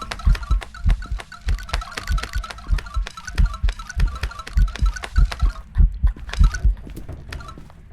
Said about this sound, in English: thank you for the heartbeat